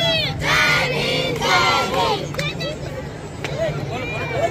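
A large crowd chants slogans and cheers at an Ambedkar Jayanti celebration in a Lucknow park, with loud, dense shouting voices near and all around throughout.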